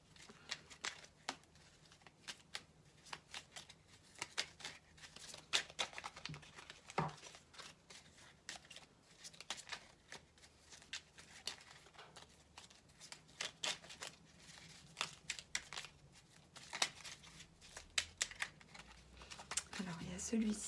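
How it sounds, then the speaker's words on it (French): Tarot cards being handled, pulled from the deck and laid down during a reading, soft close riffling and card taps scattered through the passage, with someone talking quietly over them. "je vais juste retirer deux petites cartes qui ne concernent pas donc les cartes principales"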